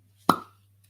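A single crisp pop as a cork pulls free from a bottle of Australian red blend wine, close and short with a quick fading ring in a quiet room.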